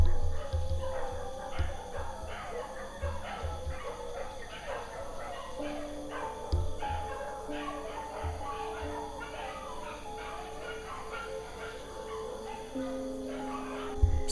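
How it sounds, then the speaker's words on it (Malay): A dog barks and whimpers in a loose, repeating pattern for about fourteen seconds, mid-distance and moderately loud against a steady background. "selingan bunyi anjing."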